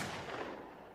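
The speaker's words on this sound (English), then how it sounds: "With the gunshots and all." Gunshot sound effects in a rap track: a loud, dense burst of blasting fire filling the whole second, fading slightly toward the end.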